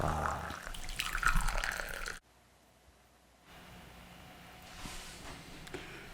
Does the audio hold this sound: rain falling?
no